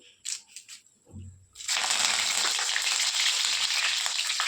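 Garam masala and curry leaves hit hot oil while a Bengali shol fish kosha is cooked, giving a sudden loud, steady sizzle that starts after a few soft kitchen knocks and continues without a break.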